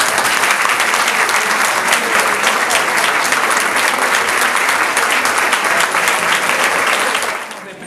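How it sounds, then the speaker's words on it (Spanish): Loud, sustained applause from a large crowd at a school's golden anniversary celebration, a thick unbroken roar of clapping that holds steady throughout before tapering off at the very end. "para que pida un fuerte aplauso"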